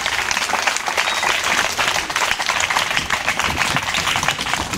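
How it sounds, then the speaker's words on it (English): Schoolchildren at a back-to-school supply event for poor children applaud their teachers, a dense, steady burst of many hands clapping together that holds at full strength throughout. "Please, can we still applaud our teachers?"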